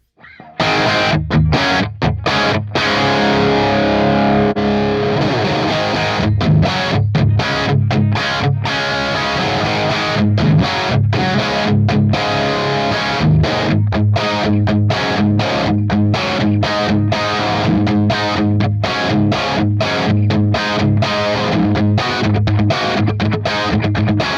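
Electric guitar played through a replica of a Super Lead amp fed by a Variac, heavily distorted chords and riffs ringing loud and continuous, with brief choppy gaps between strums.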